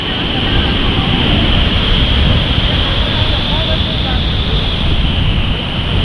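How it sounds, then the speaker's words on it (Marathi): Rough monsoon surf pounds the shore at Ganpatipule beach, a steady, loud roar of crashing water and wind that fills the whole stretch with no pause. "इथपर्यंत लाट येते"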